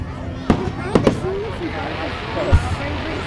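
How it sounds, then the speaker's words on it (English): Fireworks bursting at a Rumson, New Jersey display, with sharp booms near 0.5, 1.0 and 2.5 seconds and crackling between them, heard from the crowd with faint voices nearby. "See like the tiny explosion at the bottom while they shoot out."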